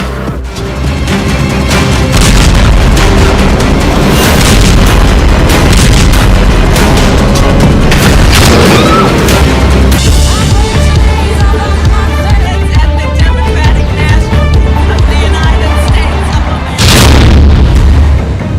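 Missile strikes in a news report: a dense run of loud, booming blasts, each bursting out and then rolling away, layered almost without a break and ending with one final heavy detonation.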